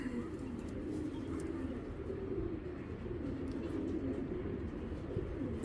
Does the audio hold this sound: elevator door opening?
no